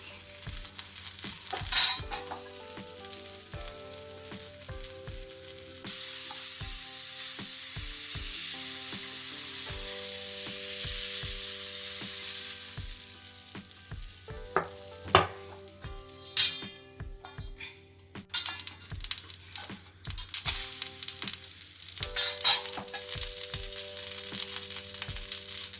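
Khaproli batter cooking in a covered pan, sizzling and frying steadily with bursts of crackle, occasional scraping and tapping of a utensil, and a sharp rise in hiss partway through as the lid lifts.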